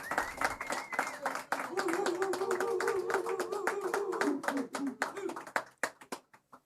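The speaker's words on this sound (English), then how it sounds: "A bigger round of applause" An audience at a live event claps in a mix of sharp individual claps, with voices and cheering rising over the applause before it thins to a few scattered claps.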